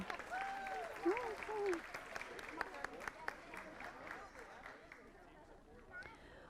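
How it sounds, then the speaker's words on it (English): Audience clapping for an honoree at a board meeting, fairly faint and distant under a voice and some crowd chatter, tapering off toward the end. "Let's give Jonathan another big round of applause"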